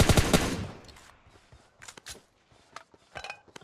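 In a shooting video game, a rapid, loud burst of gunfire opens the moment, followed by a few scattered fainter shots and clicks.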